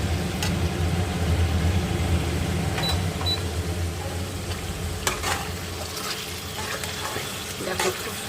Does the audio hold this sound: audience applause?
no